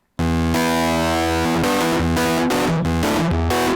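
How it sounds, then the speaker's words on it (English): A distorted, crunchy rock guitar tone with transistor distortion played on a Nord Electro 6 keyboard, loud sustained chords with several rhythmic stabs and changes. "So you got a nice transistor distortion."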